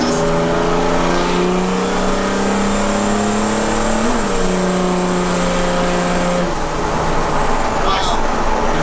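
A heavily modified mail truck speeds by with a loud, sustained engine roar, rising steady harmonics holding under a high whine, then a pitch drop near the end as it eases off.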